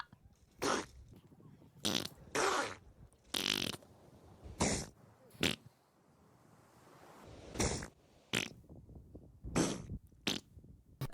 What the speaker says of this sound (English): This is what a seal sneeze sounds like.